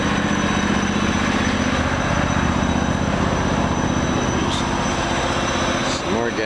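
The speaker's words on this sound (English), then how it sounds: "Some more gas engines in here." Vintage gas engines running at a steam show, a continuous loud mechanical drone with steady chugging and no pauses.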